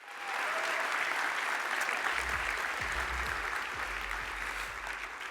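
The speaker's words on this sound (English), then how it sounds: "Give Tamir and the whole military leadership one more round of applause." A large conference audience gives a long round of applause for military leadership, a dense, even wash of clapping that swells quickly and holds steady without voices.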